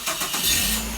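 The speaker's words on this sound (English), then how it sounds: "cranks the engine." A 2007 Mazda 5 engine cranking over after a Viper remote start, a short mid-level whir of the starter turning the engine, heard alone without talk.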